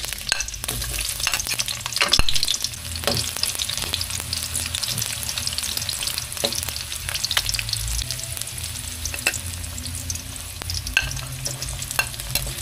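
Onion fries in cooking oil with a dense, steady sizzle, with sharp spatula scrapes and taps scattered across it, close and loud, no voices.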